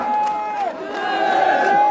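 A crowd at an outdoor BNP political rally in Santhia, Bangladesh, makes a steady, dense roar of voices and cheering, with a sustained tone running above it. Individual claps are not distinct.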